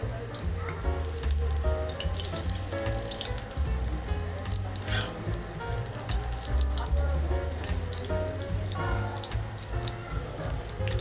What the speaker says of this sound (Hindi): इनको हम सिर्फ 2 मिनट तक फ्राई करेंगे।